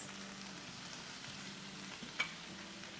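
Chicken stir-fry with cabbage, green onion and soy sauce frying in a pan, a continuous soft sizzle with one small clink partway through, close and low in level, no talking.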